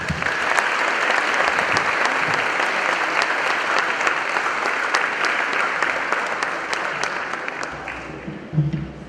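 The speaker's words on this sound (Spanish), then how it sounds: "Fuerte el aplauso para él." Strong applause from a conference audience welcoming a speaker at a lecture, a long, sustained burst of many hands clapping at close range, steady for several seconds before slowly tapering, with a few sharper claps standing out.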